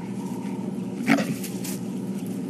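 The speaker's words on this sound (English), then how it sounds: "Listen to that funny kind of bark that they let off. It's kind of like a deep barking growl." African wild dogs let out a deep, barking growl on safari, one short gruff call standing out near the middle over a steady background of low rumble and ambient noise.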